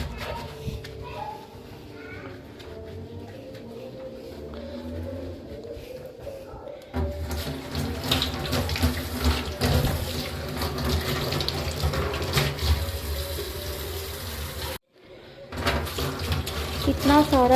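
Hot water runs from a kitchen tap into a sink, a steady splashing stream that gets louder and fuller midway, stops briefly near the end and then resumes.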